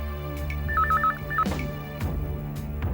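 A telephone rings at night in a home, a short warbling electronic trill of alternating tones, with music playing underneath.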